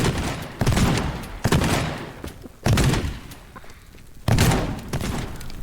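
Loud, sustained automatic gunfire from the physics sandbox game Teardown during a prop hunt match, several overlapping bursts with sharp onsets about every second, continuous and close with no talk.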